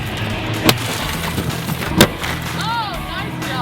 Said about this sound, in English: We're testing out the glass breaker.